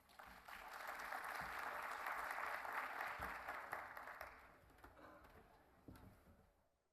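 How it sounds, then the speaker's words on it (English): A crowd at a regional housing summit gives a round of applause that swells, holds, then thins out into scattered claps, sounding somewhat distant and quiet. "please give them a round of applause"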